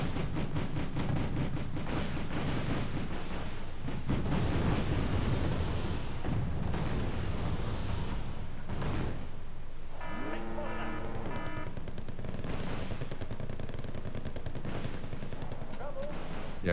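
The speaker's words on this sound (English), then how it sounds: "I'm starting to bombard their base." Artillery bombarding an enemy base in the war game Wargame Red Dragon, a dense, loud barrage of rapid gunfire and booming blasts rolling continuously, with a faint mechanical whine in the middle stretch.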